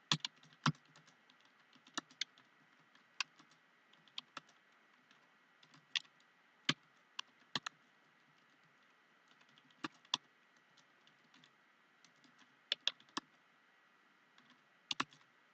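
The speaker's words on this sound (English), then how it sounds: "I cannot freaking type." Keyboard typing on a computer during a live stream, sparse bursts of sharp clicks scattered across the whole stretch with pauses between them, fairly quiet with no talk.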